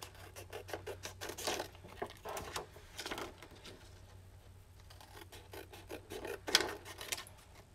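A laminated sheet being cut apart after lamination, giving quiet rasping, scratchy strokes in irregular bursts with a brief sharper snip near the end, close by and with no talk.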